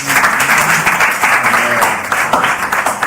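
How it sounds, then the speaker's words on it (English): Audience at a church gathering giving a round of applause, close and loud clapping with audible individual claps in an uneven rhythm, with voices mixed in underneath. "Please, let's give a round of applause once again."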